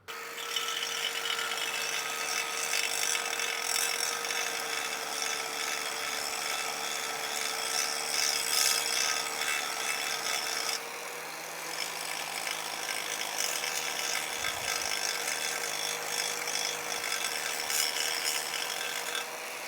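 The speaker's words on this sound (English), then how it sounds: "So we're gonna grind this off" An M18 grinder cuts off the handle of a Tahoe T16 boat trailer during a Fulton fold-away hinge install, giving a steady, high-pitched, close abrasive whine that runs continuously with a brief change in pitch midway and no talk.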